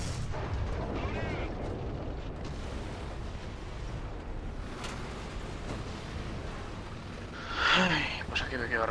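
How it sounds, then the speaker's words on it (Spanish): Bursts of War Thunder gunfire and booming artillery crackle through a dense, noisy battle mix, with a louder blast near the end and voices over it. "Han cambiado otra vez los sonidos de los disparos"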